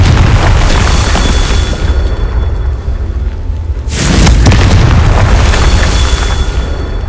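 A Confringo blast spell erupts in Hogwarts Legacy with a loud booming explosion, a sudden burst of noise surging after a brief lull, set against ongoing game ambience.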